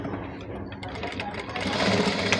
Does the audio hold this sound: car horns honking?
no